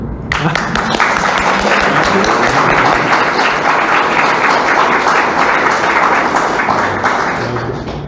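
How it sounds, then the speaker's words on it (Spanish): A lecture audience applauds at the end of a talk, a full, dense burst of clapping that rises quickly, holds steady for several seconds, then begins to thin out near the end. "Primero un aplauso, ¿no?"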